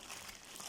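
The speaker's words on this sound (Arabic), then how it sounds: "هنمسك الكيس بتاعنا اهو نبرمه كده" A plastic bag crinkles and crumples steadily as it is twisted shut around salted fish in a kitchen, a close, continuous rustle with no talk.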